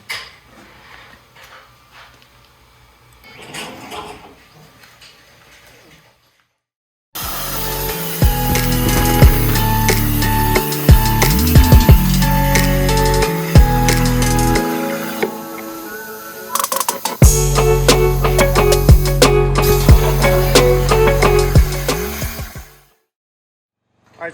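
A cutting machine, run with an air compressor, slices through a flat metal plate. After a quiet lead-in, a loud, harsh, continuous grinding roar with rattling clanks holds for about fifteen seconds, then stops abruptly.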